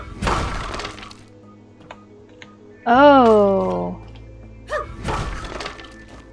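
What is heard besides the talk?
hammer smashing rocks in My Time at Sandrock video game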